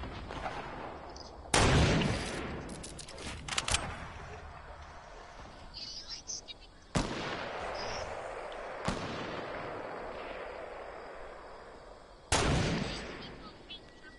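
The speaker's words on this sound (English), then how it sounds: "Oh, I'm being sniped." Sniper gunfire in a guided missile video game on a mountain, four or five loud booming shots spaced seconds apart, each with a long echoing tail, between stretches of quieter game sound.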